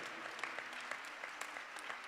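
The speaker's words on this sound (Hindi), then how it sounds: "उसके लिए तो जोर से तालियां तो बजा सकते हैं।" A congregation at a charismatic Christian convention applauds, producing steady, dense clapping from many hands that stays at an even level throughout.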